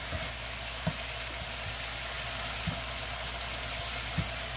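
Beef sizzling in a very hot pan for a beef, pasta and veggie stir-fry, a steady close hiss with soft clicks and taps of cookware, and no talk over it.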